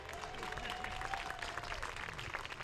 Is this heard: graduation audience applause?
yes